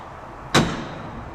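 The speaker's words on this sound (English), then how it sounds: "when you go to shut this hatch" The rear hatch of a Chevrolet C7 Corvette slams shut once, a single sharp, close thud with a brief ringing decay fading into quiet background.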